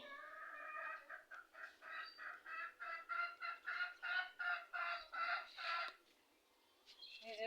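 Native chickens give a fast run of rhythmic, close-by clucks that stop abruptly, then short calls start up again. The sound is faint overall.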